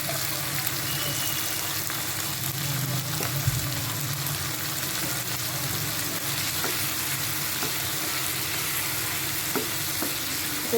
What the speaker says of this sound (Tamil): இது நல்லா வதங்கி வரட்டும்.